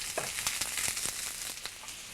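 Onions sizzle in a pan over high heat, a dense crackling hiss punctuated by sharper pops, close and fairly loud throughout.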